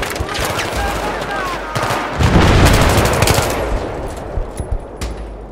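Automatic gunfire crackles in rapid bursts during a Battlefield 3 campaign battle, loud and dense, swelling in the middle with heavier shots, while voices speak over the shooting.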